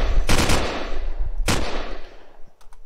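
Two sharp, loud bursts of video game gunfire in 3-shot burst mode, spaced about a second apart, each a quick cluster of shots followed by a short ringing tail, then faint mechanical clicks.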